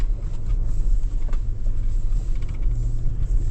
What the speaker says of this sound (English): Good throttle response with this petrol V8